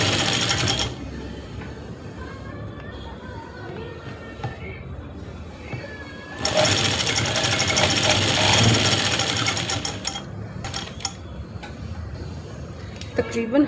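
A sewing machine stitches a seam along fabric for an Afghani salwar, its fast motor whir running in long bursts with a louder stretch midway and short pauses between, while a voice talks over it.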